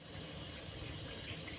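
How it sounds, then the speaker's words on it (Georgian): Water flowing into the small dephlegmator of a still used for distilling honey spirit, a faint steady hiss and rush of running water with no break and no voices. "ახლა წყალი წავა აქ, ამ მასში, დეფლეგმატორში."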